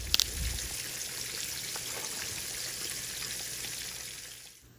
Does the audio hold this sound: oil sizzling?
yes